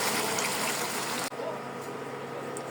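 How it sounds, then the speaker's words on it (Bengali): Water is poured into a pan of tomato shing fish curry, a steady rushing pour that cuts off abruptly and leaves a quieter bubbling hiss. "এখন পানি দিয়ে দেব"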